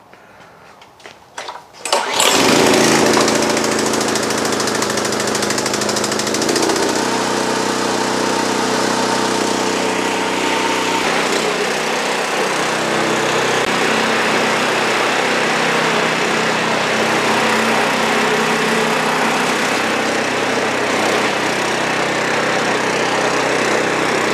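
A small gasoline engine, choke and fuel on, catches after a few sputtering pulls and then runs loud and steady at a constant buzzing pitch up close for the rest of the stretch.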